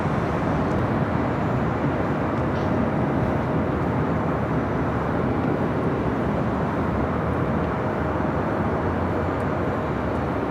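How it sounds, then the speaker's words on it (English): An Avianca airliner takes off on runway 24 left at LAX, a continuous, loud, broadband jet roar that stays steady and even throughout. "Avianca now rolling down at 24 left."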